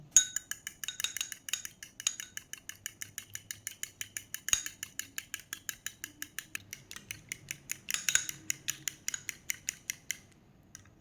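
Turmeric, Kashmiri red chili and salt beaten together in a bowl for an egg potato kabab, a rapid, even run of close clicking utensil strikes against the bowl, sustained for about ten seconds before stopping.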